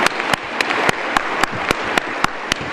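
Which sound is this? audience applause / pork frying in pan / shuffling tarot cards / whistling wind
audience applause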